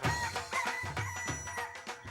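A hen clucks in a rapid, rhythmic run of short, throaty calls that repeat steadily for about two seconds, close and fairly loud, with no talking over them.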